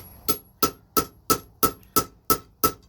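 A blacksmith's hammer strikes a punch into hot metal on an anvil, eight loud, evenly spaced ringing blows at a steady rhythm, close up, with a faint hum between them.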